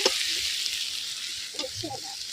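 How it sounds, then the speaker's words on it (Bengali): Fried shrimp is stirred with bitter gourd and potato in a pan: a brief, soft sizzling hiss with a few light scraping knocks of the spoon near the end, heard up close. "ভাজা চিংড়িটার সাথে উচ্ছে আলু ভালো করে মিশিয়ে নেবে।"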